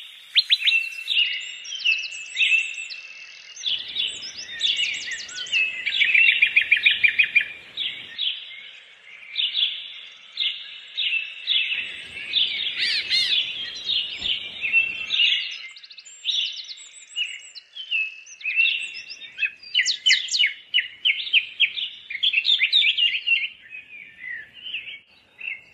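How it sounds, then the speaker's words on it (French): Birds chirp and sing steadily throughout, with many overlapping bright trills and tweets, some near and loud, others fainter, forming a continuous chorus with no voices. "Alors il s'agit du chant des oiseaux."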